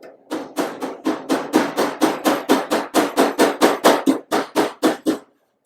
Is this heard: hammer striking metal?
yes